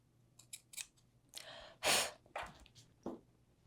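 Scissors trimming the fabric of a tailored jacket front, a few short close snips and one longer cut in a quiet room with a low background hum.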